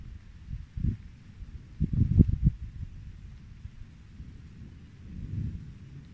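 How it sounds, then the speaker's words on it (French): Thunder rolls in the distance during a mountain hike on the Hauts Plateaux of the Vercors, low muffled rumbles that swell briefly around the middle and again near the end over a quiet outdoor background. "on entend un peu des bruits d'orage"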